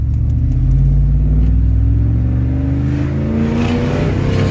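A deep, rumbling truck straight-pipe exhaust drones loudly from inside the cab, its pitch climbing steadily as the engine revs up.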